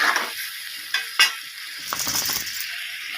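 Mixed vegetables with cauliflower, radish, carrot and green chili sizzle in a pan while being stirred, a bright steady frying hiss broken by a few scraping stirs, close and clear.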